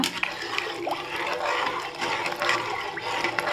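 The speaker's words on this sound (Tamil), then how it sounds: "ஒரு கிளாஸுக்கு ஒன்றரை கிளாஸ் தண்ணி மட்டும் சேருங்க" Water pours into basmati rice for prawn biryani, a continuous close splashing gush that runs steadily for a few seconds.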